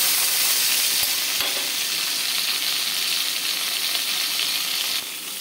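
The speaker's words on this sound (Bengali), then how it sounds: "এবার আমি মাছটা দিয়ে দেব। আমি এপিট উপিট করে লাল করে ভেজে নেব" Bhola fish sizzles in hot mustard oil, a dense, loud, continuous hiss and crackle close by, with a couple of sharp taps from turning the pieces and a slight drop in intensity near the end.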